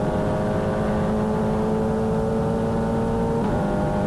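Formula 4 race cars on track at the New Jersey SpeedTour sound as a steady, loud engine drone with sustained tonal whine, the pitch holding then shifting near the end as the pack sweeps past.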